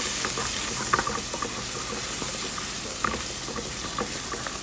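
Garlic and ginger sauteing in oil in a pan, a steady close sizzle with scattered crackles and small pops throughout, no voices.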